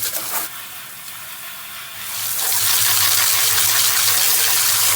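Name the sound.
garden hose rinsing DE pool filter grids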